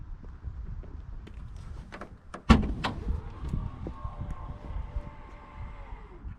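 The trunk of a 2021 Volvo XC90 opens with a sharp latch clunk, then a steady powered motor whir as the lid rises, followed by a soft stop. It is heard close by in a quiet space.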